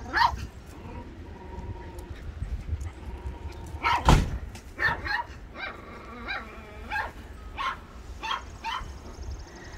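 Puppies play chase in a run of high yips, whimpers and short barks scattered over ten seconds, close and lively with quieter scuffling between calls and a brief voice.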